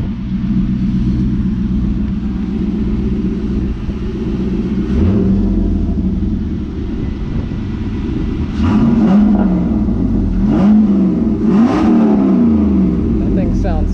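An LS1-powered car with a Flowmaster exhaust and six-speed rumbles loudly at a steady idle, then revs in several sharp bursts toward the end, with people talking over it.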